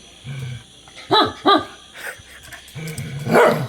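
Two playful pet dogs bark and yip at each other in short bursts, several close barks with whimpering between, indoors at home.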